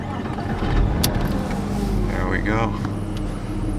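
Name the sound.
2000 Porsche Boxster S engine starting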